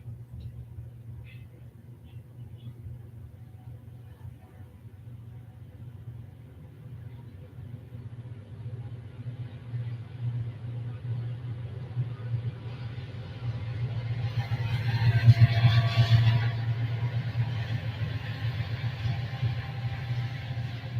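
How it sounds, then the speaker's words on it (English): A long Kansas City Southern freight train hauled by four locomotives rolls past eastbound at night, a steady deep rumble and engine drone that slowly swells louder and peaks near the end. "Four engines. That's a long train."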